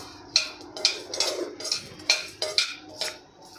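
Whole spices (sesame seeds, coriander, cumin, star anise, cloves, black pepper and stone flower) dry roasting in a pan, a spatula scraping and clinking against the metal in a slow, uneven series of close strokes.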